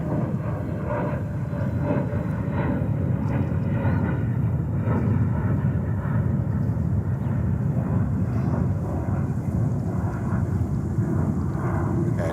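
A Qatar Boeing 777-300 jet takes off at JFK, a loud, sustained engine roar with deep rumbling that holds steady throughout, no other sounds standing out.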